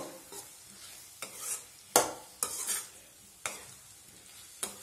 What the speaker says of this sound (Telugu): మీడియం ఫ్లేమ్లోనే ఇలా పెట్టి ఫ్రై చేసుకుందామండి